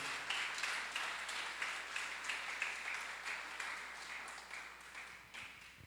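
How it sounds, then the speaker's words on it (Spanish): Church congregation clapping during a worship service, a quiet, rhythmic patter of many hands keeping a steady beat at a distance. "Dele fuertes esas palmas al Rey de Reyes y Señor de Señores."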